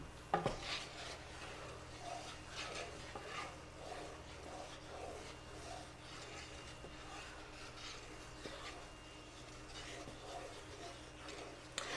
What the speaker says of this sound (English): now's a good time to stir and see if we can get the boil stirred down